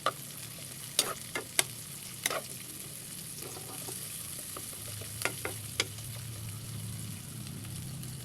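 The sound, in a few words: garlic sautéing in a frying pan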